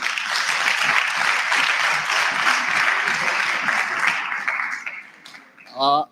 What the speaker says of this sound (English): So let's really give a round of applause to the DDG, Mr. Sam Zungu.